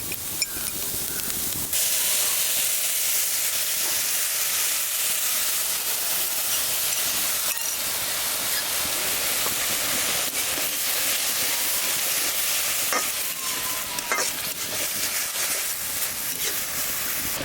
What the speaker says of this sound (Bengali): হালকা লাল লাল ভাজা করে নেব দিয়ে দিব তরল দুধ